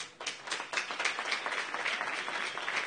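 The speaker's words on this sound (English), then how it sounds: "Guys, let's give him a big applause." A conference crowd at the iCoin Summit 2018 breaks into applause, with dense, continuous clapping that swells quickly after a brief quiet start and stays strong to the end.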